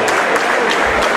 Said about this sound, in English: And a polite round of applause from South Melbourne's most faithful.